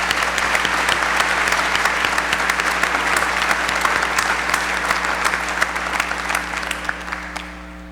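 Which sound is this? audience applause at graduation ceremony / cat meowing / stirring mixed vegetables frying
audience applause at graduation ceremony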